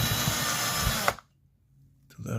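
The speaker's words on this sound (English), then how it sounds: "we'll drill the pilot hole" Power drill boring a pilot hole into a ceiling, a loud steady whirring for about a second that cuts off, then a short pause before the motor starts again.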